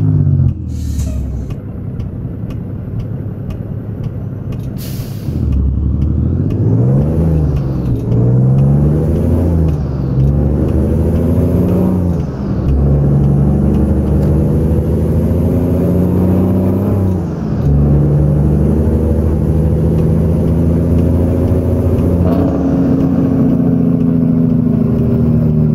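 A Kenworth truck engine in American Truck Simulator rumbles loudly and steadily, rising and falling as it revs through gear changes, with a brief hiss near the start and no talk.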